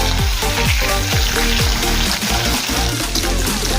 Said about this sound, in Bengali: মাছের মাথাগুলো বেশ কড়া করে ভেজে নিতে হবে